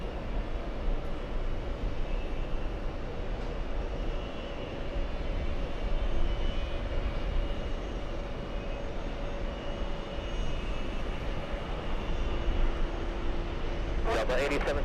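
A heavy airliner, a Boeing 777 landing on runway 22 left at JFK, gives off a steady, broad engine roar throughout, with a sharp noise burst near the end.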